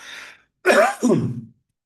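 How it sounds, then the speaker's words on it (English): A short raspy throat-clearing cough from throat irritation caused by spiced smoke, followed by a second rougher cough, close by and distinct, then silence. "That's why I'm coughing."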